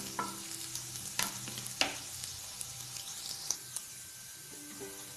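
Finely chopped ginger and garlic sautéing in a pan, a steady close sizzle broken by several sharp clinks and scrapes of a spoon stirring, no talk.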